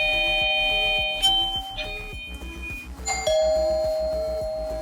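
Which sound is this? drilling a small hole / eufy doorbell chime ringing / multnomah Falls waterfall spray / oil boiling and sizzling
eufy doorbell chime ringing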